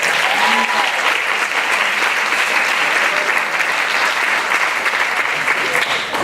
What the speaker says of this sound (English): One more round of applause for Jen